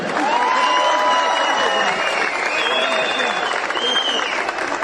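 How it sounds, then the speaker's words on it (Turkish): A large crowd at a university graduation ceremony in Kocaeli, Turkey, applauds with sustained, dense clapping and some cheering voices mixed in. "Biraz daha anne babalarınıza şükranlarınızı alkışla gösterin."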